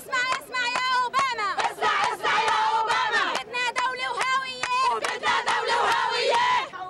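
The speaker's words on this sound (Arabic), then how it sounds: "وفي غزة تظاهر العشرات أيضا مرددين هتافات" Dozens of protesters in Gaza chant slogans in unison, loud rhythmic shouted phrases from a crowd repeating in bursts with short pauses between them.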